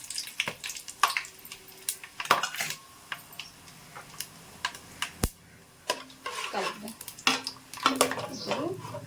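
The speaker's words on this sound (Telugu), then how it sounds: "ఇప్పుడు ఇవన్నీ మనం బిర్యానీ దినుసులన్నీ వేసేస్తున్నాం. అలాగే జీడిపప్పు కూడా వేసేస్తున్నామండి." Whole biryani spices and cashews tipped into hot oil in a pan, giving clattering metal pan and utensil knocks with stirring scrapes and a light sizzle in between, close and intermittent, with no talking.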